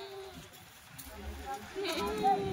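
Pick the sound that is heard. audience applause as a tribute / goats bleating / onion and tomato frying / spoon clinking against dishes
goats bleating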